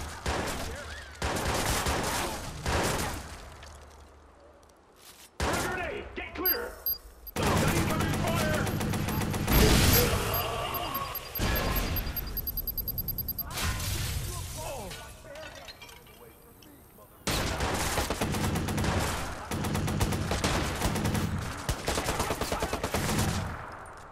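Gunfire in the PS4 game Watch Dogs during the Lucky Quinn boss fight: repeated loud bursts of rapid shots with crashes and breaking sounds, broken by brief pauses, with voices heard in places.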